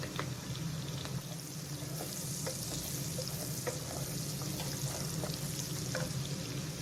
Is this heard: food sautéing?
yes